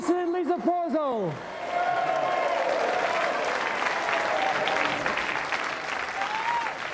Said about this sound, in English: Please give another round of applause to Jason and Lisa Pozel.